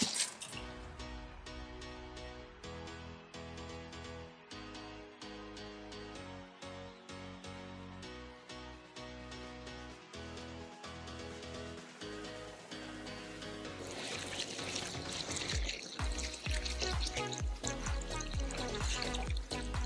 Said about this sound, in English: So we rinse our rice here.